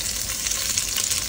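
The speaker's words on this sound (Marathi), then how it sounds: "आता कढईमध्ये तेल घेतलंय, थोडंसं बऱ्यापैकी तापलंय। त्याच्यामध्ये लसूण टाकते ठेचून" Crushed garlic sizzles hard in hot oil in a kadai, a dense, steady frying crackle that stays loud and even from start to finish with no voices.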